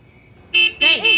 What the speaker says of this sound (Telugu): ఏంట్రా గుయ్యి గుయ్యమని హారన్ కొడుతున్నావు?